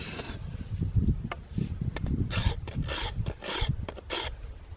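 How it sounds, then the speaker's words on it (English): A tool scrapes the back of a California bay wooden bow in close, raspy strokes, repeated rhythmically with brief pauses between passes. "Now when you're scraping your bow,"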